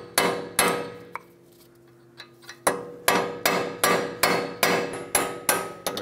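Hammer blows on a center punch driving out a wheel bearing bolt on a 2012-2020 Ford Focus: two sharp metallic strikes, a pause with a light tap, then a steady run of about nine ringing hits at an even pace, close and loud.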